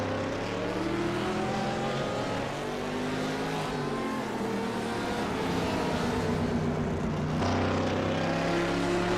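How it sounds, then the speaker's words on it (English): A Corvette V8 race car in a sports sedan race at Phillip Island gives a loud, continuous rumbling drone, its pitch rising and falling as the engine works through the revs. "Rumbling big V8."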